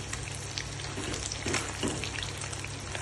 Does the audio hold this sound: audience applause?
no